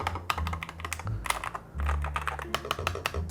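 Quick keyboard typing, a steady stream of crisp key clicks with a few louder taps, close up and with no voices.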